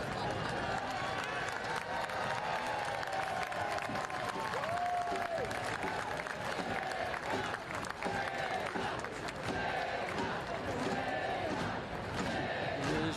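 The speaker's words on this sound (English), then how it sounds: "they are chanting his name" Football crowd at a Portland Hearts of Pine against South Georgia Tormenta FC match chanting a player's name, a loud continuous roar of massed voices with clapping and cheering, and commentary heard over it.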